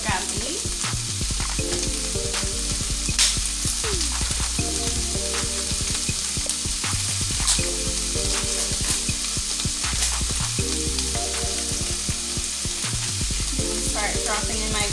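Vegetables sautéing and browning in a pan for spaghetti soup, a loud continuous sizzle with frequent close scraping stirs and clicks of a utensil repeating through the whole stretch, no speech.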